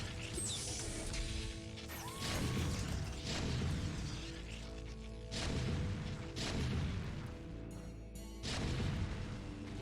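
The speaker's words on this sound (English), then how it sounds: "The tank fire has begun on these cannons." Siege tank cannon fire in StarCraft: Remastered slams into enemy photon cannons, a series of heavy booming impacts and crashes arriving in repeated bursts every second or two over a steady game background.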